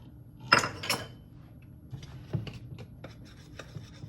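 White cake mix batter for puto cheese being stirred in a bowl, with a couple of louder scrapes and knocks early on followed by soft, irregular scraping and tapping of a utensil against the bowl.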